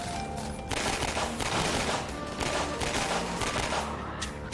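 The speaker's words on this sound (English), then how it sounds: "Where the fuck are they shooting me from?" Heavy, sustained gunfire in Half-Life 2 Episode 1, loud overlapping bursts and rapid shots filling the whole stretch without a break.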